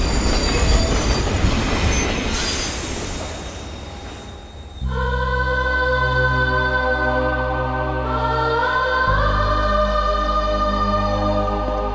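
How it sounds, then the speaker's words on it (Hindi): A train pulls into a station in a Bollywood action movie, a loud steady rumble of wheels with long squealing brake tones rising as it slows, after a stretch of noisy ambience. "इस ट्रेन को भी इसी वक्त आना था"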